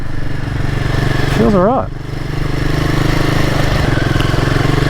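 A Royal Enfield Himalayan 450 motorcycle lugs along off-road in second gear, its engine chugging steadily and close throughout, with someone talking over it and a brief rising whine partway through.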